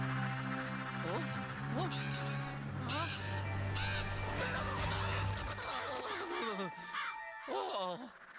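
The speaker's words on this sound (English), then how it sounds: "Birds! They're going crazy!" Video game birds in Luigi's Mansion 2 HD cry in a frantic chorus of squawks and caws over game music, with someone talking excitedly throughout.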